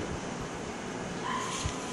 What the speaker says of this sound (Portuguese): Tem um cachorro latindo lá no fundo.